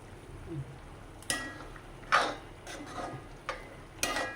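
A spoon scrapes and taps in a pan as kasuri methi is stirred into a prawn roast, with a few sharp clinks and soft scraping strokes over a faint background hiss.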